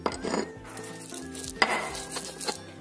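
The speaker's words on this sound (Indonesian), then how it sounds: "Kita ulek halus dahulu." Garlic, candlenuts, kencur and coriander seeds are ground with a mortar and pestle, making close, loud scraping and crunching strokes in an irregular rhythm, with sharp knocks of the pestle against the mortar and no talking.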